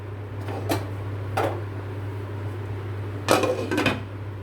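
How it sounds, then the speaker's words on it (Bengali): A metal lid is set on a cooking pot of dal makhna, with several clanks and rattles at intervals and a louder cluster of knocks near the end, over a steady kitchen hum. "এবার এটা ঢেকে দেবো"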